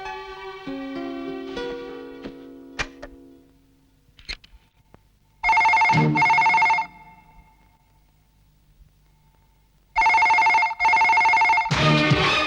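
A telephone rings in a Hindi dubbed film scene, two loud electronic ring bursts separated by quiet, after a stretch of musical tones and scattered soft clicks, with no voices.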